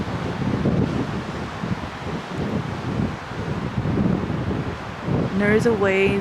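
Steady blustery wind rushes over the microphone with a rolling wash of Lake Tahoe waves beneath, and a faint high whistle near the end.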